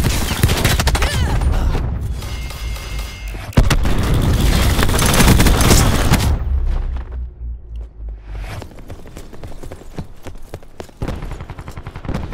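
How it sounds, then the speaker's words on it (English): Cluster grenade blasts in Call of Duty Black Ops 4 burst in a loud, dense chain of booms and pops that fade into scattered smaller bangs, with no talking. "Cluster grenade. Enjoy."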